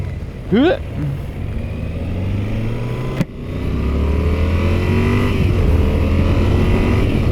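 A Yamaha Super Tenere 1200 motorcycle engine revs up with rising pitch, then after a gear change around mid-clip settles into a loud, steady drone under rushing wind, recorded from the rider's position.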